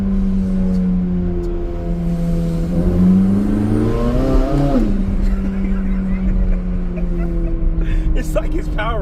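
A 2025 supercharged 670 hp Corvette C8 Z06 accelerates inside a tunnel, its engine note rising to a loud peak and then settling into a steady drone, with people talking over it.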